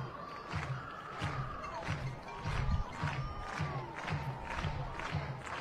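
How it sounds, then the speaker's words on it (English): Crowd noise at an Oklahoma softball game against Baylor, a loud, sustained roar of cheering and shouting from a packed stadium, swelling in waves throughout with occasional thuds. "The crowd in a frenzy early on here."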